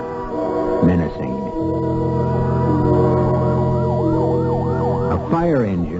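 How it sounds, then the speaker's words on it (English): A fire engine siren wails loudly through the night, its rising and falling tone sweeping repeatedly over a steady engine rumble, close and dominant for several seconds as a radio drama effect. "A fire engine, suddenly screaming through the night"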